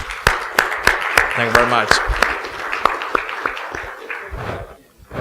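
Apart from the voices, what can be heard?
audience applause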